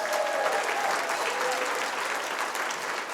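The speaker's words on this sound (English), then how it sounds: "Give yourselves a round of applause." An audience at a fundraising event applauds, a dense, steady wash of many hands clapping that carries on evenly throughout with a faint crowd murmur beneath.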